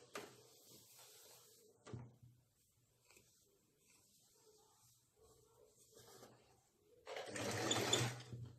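A sewing machine stitches a zigzag seam on bedspread fabric in short, faint bursts, ending with a louder, sustained run of rapid stitching up close.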